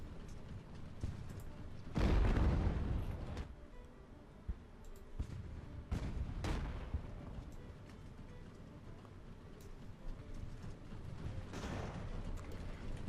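Artillery fire in the naval video game Ultimate Admiral: Age of Sail: heavy cannon booms roll out three times over a constant background rumble, with the first blast the loudest and longest.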